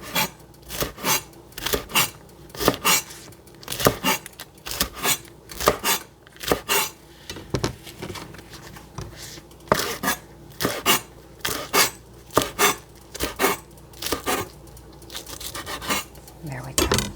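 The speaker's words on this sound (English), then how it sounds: "I find that's the easiest way to slice thin slices of lettuces, or leafy vegetables as we call them" A knife slices Swiss chard leaves on a cutting board in quick, regular strokes, each cut a crisp rasping chop in a steady rhythm close by, with occasional talk.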